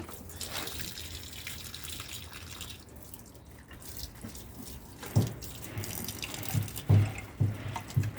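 Water runs steadily from a tap for watering plants, a close, continuous splashing flow, joined later by a few louder splashes and drips.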